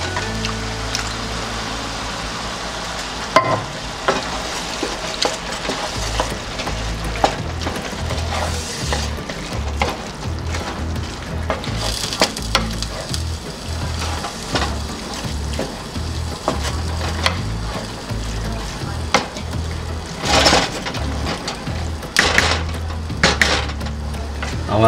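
Diced tomatoes tumble into a hot pan for a fusion lasagna sauce, with steady sizzling, scraping and clattering of utensils against cookware, close and continuous, with no talk.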